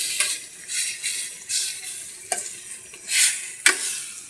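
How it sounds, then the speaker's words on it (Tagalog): Chicken sautéing in a pan for adobo, a steady sizzle broken by repeated stirring swishes and a couple of sharp scraping clicks, close and with no talk. "yung ginigisa natin at mamaya lalagyan natin ng toyo"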